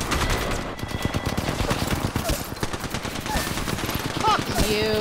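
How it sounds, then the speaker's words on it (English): Rapid automatic gunfire in the battle royale shooter Apex Legends, dense bursts of shots layered with game effects and a voice speaking over the firefight. "he shot me in the back."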